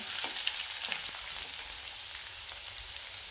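Coarsely crushed garlic fries in a mustard and cumin tempering, a close, steady crackling sizzle like light rain on a surface, with small pops throughout.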